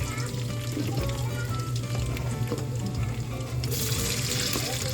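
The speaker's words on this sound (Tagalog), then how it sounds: "Prito muna natin siya" Steady sizzling and crackling of chicken nuggets and embutido frying in hot oil, loud and close, with a constant hiss throughout and no talking.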